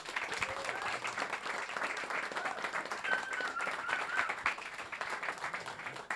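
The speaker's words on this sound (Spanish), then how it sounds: "Al primero que queremos presentar y que quiero que sea recibido con una ovación es al señor Cristian Ponce." Audience applause welcomes a guest at a horror-themed literary talk, a steady, dense clapping from a crowd that holds for several seconds, with faint voices underneath.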